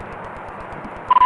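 Touch-tone telephone dialing on a police radio channel, a few quick beeping tones at the very end following a brief stretch of radio hiss with a rhythmic low pulsing.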